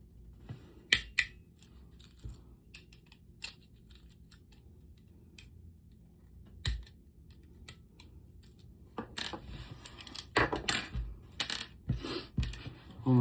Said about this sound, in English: now I got the old trusty box cutter